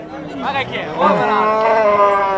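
A dairy cow at a livestock market moos loudly and close by, a long drawn-out low call that swells and holds, with faint background noise.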